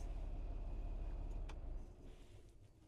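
A truck's idling engine rumbles steadily up close during a commercial driver pre-trip inspection. It then dies away as it is switched off, leaving a quieter hum.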